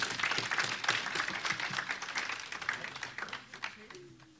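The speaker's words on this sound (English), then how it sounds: "our students for the panel, let's give them a nice round of applause" Applause for a student panel at a conference morning session, a moderate round of clapping from the audience that thins out, with a voice speaking faintly near the end.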